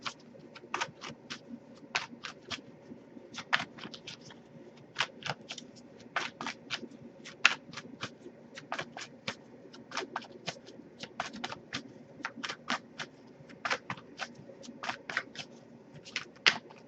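A Wisdom of the Oracle tarot deck is shuffled by hand, a quiet, close run of crisp riffling flutters and card slaps repeating in uneven bursts, no voices.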